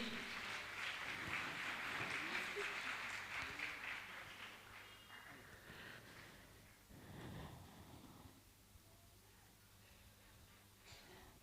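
An audience at a Jain monk's question-and-answer gathering claps in a dense burst of applause that gradually thins and fades, heard fairly faintly.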